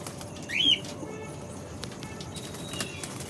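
Pet pigeons burst into a short flutter of flapping wings as their cage is opened, a quick faint rustle over quiet surroundings.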